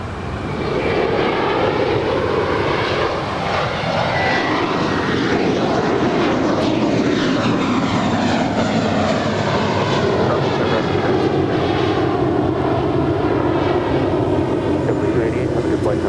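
A Kalitta Air Boeing 747-400ER departs LAX bound for Anchorage, its jet engines a loud, continuous broadband roar with a sweeping pitch shift as it passes, steady throughout with faint voices underneath.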